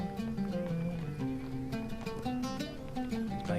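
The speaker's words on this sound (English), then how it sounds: "Got some horses there." Horses neighing with hooves clopping in the town of Bree in the online game Lord of the Rings Online, with repeated whinnies and steady hoof clatter over a tonal background score.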